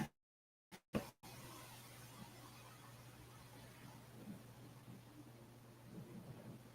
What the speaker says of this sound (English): sounds like it might be a little rain out there.